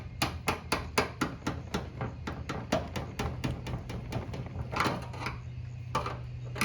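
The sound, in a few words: screwdriver tapping fuel tank lock ring on 1991 Buick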